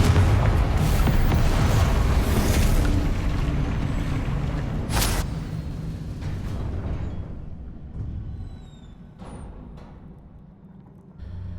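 A fiery Confringo spell explosion in Hogwarts Legacy, a loud booming blast with a sharp crack near the middle, rumbling on and fading into quiet debris and faint tail sounds.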